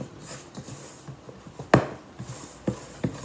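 Spoon or spatula working flour into thick cinnamon sugar blondie batter in a bowl, giving soft scraping and dull knocks at an irregular pace, with one sharper clack midway, close and fairly quiet.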